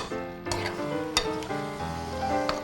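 Steak and vegetables sizzling on a hot griddle, Benihana-style teriyaki, a close crackling sizzle with scraping and stirring clatter, music playing faintly underneath.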